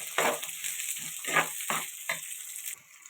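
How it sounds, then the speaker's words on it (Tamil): Chopped garlic and ginger sautéed in a pan for a meat curry, giving bursts of sizzling and frying that swell and fade as the pieces are stirred, fairly close, with no talking. "நல்லா சுருளை வதக்கணும்"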